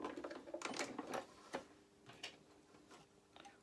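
A sewing machine stitches yellow fabric toward lace and reverses, giving quick rhythmic ticking runs that pause and restart, fairly quiet and close.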